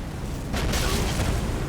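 An explosion in the video game Elden Ring bursts in as a dull, rumbling boom that quickly spreads into a sustained noisy roar lasting over a second.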